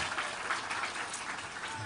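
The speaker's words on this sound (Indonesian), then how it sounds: "Tapi tepuk tangan dulu buat beliau nih Pak Mus." An audience at a campaign event claps steadily for a guest, a dense, even patter of many hands heard from within the room.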